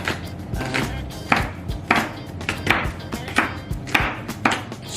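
A knife chops a bell pepper on a cutting board in a steady run of crisp, close taps, about two per second, with no talk.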